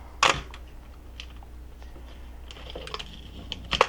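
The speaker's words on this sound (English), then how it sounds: "Hit the shutter button." A sharp mechanical click of a Nikon F3 film camera shutter release near the start, then quiet handling noises and small taps, with another click-like snap near the end.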